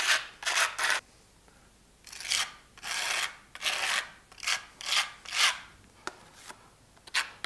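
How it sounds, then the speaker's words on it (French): A filling knife spreads soft paste into large holes in cement, giving a series of rhythmic scraping strokes, close and distinct, each stroke lasting under a second with short pauses between, no talk. "on va reboucher donc les gros trous, comme ici, avec une pâte bien moelleuse"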